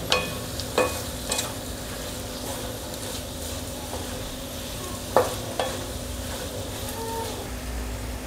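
Potato bhaji stirred in a pan over steady sizzling, with occasional sharp spoon scrapes and knocks against the pan standing out from the constant frying hiss, close up and with no talking.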